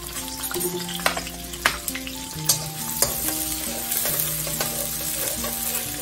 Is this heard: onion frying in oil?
yes